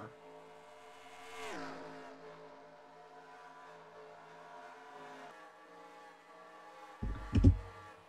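Race cars circling a high-banked oval in a racing video game, a steady multi-layered engine drone with one car sweeping past in a pitch-dropping whoosh, then a loud burst of rumbling near the end.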